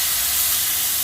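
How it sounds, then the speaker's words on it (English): Last few slices of bacon sizzling in a pan over high heat on an outdoor cookstove, a steady, close, loud hiss with no talking. "So we're cooking up some bacon."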